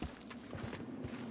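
Horse hooves clip-clopping in Red Dead Redemption 2, a few soft, faint thuds of steps on ground over a low background.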